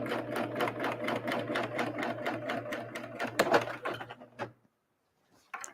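A serger sewing machine runs at a steady fast chatter while stitching through a thick seam, struggling with a few louder knocks before stopping, then a brief restart; close and loud, no talking.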